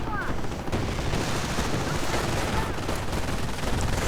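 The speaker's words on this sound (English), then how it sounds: "MGs from the base firing away a bit" Base machine guns in a strategy video game rattle in dense, continuous bursts of gunfire that stay loud throughout, with other battle noise mixed in and a commentator's voice partly audible beneath.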